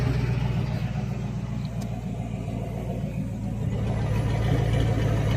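Ford OBS truck engine idling with parts from AutoZone, a steady low rumble that holds for several seconds, close and constant with a slight swell near the end and no talk.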